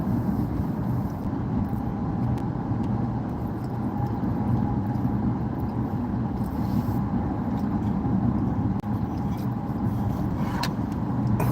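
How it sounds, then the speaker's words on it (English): Morning traffic on the I-10 highway in Houston near Katy makes a continuous broad roar of passing vehicles and tire noise, steady and moderately loud throughout. "Morning traffic here on the I-10 and just the beginning of Houston"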